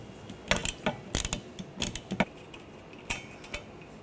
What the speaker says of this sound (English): Using a 15mm socket, take this nut off.